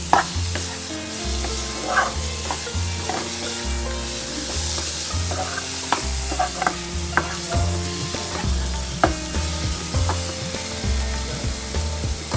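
Chickpeas and potatoes fry in a pan for Amritsari pindi chole, a steady close sizzle with repeated scraping and stirring clanks throughout, no voices.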